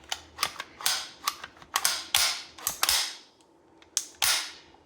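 An Uzi's trigger is pulled and resets again and again, giving sharp, close metallic clicks and snaps in an irregular run of about a dozen, with no talking.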